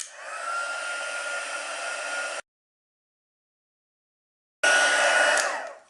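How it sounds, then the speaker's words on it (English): A heat tool blows steadily to melt silver embossing powder on a handmade card, a loud close whooshing hiss that cuts off for a couple of seconds and then restarts before winding down. "So now I want to heat set this."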